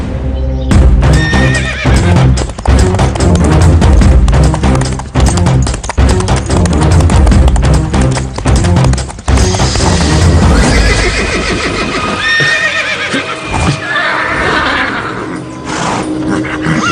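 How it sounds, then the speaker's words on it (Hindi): A horse neighs loudly and repeatedly with hoof clip-clops amid a dramatic soundtrack, the whinnies rising and falling over about seventeen seconds of a Hindi drama. "ना जाने इस घोड़े को क्या हो गया है।"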